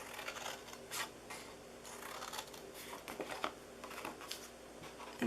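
Scissors cutting into paper for a Halloween and Christmas treat box, soft close snips and rustles in a quiet irregular series, faint and without talk.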